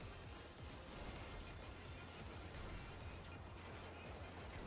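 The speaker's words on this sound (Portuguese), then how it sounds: "Olha o barulho do tiro" Dense, rapid gunfire from Grand Theft Auto V crackles continuously in a busy game soundscape, bursts overlapping with low rumbling and a steady background hum.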